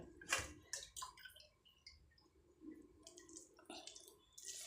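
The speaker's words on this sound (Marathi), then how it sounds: "असं दाबून दाबून पाणी काढून घ्यायचं सगळं" Quiet wet squelching and dripping as soaked poha is pressed to squeeze out water, with small splashes and trickles coming in irregular bursts close by.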